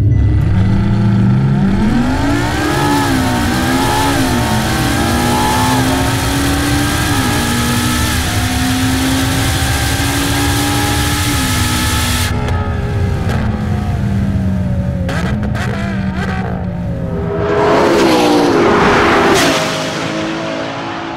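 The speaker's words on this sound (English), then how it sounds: "here's what a three-way drag race would look like between the LaFerrari P1 and" A three-way drag race between a LaFerrari, a McLaren P1 and a Porsche 918, with loud high-performance engines revving and climbing through the gears in a long, continuous roar and a fresh surge of acceleration near the end.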